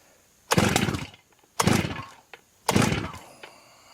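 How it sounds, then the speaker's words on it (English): An MS 880 clone chainsaw engine, under carburetor adjustment, roars up in three strong, close bursts about a second apart, each dropping back toward a low idle between them. "Let's bring the idle speed up just a little bit so I can start adjusting the carburetor"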